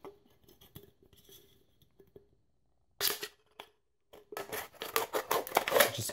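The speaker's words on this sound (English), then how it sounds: "we need to take an empty soda and we need to cut it" Scissors cut through an empty aluminium soda can. Quiet snips start off sparse, then give way after a short pause to louder bursts of crinkling, rasping metal, close up and with no speech.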